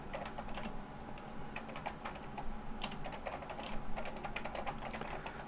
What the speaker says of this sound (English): let's say we type in a very simple note